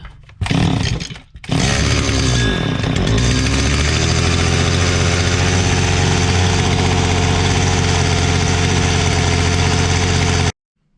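A Stihl FS trimmer's small two-stroke engine fires after a brief pull, then runs at a loud, steady high idle for about nine seconds before cutting off abruptly.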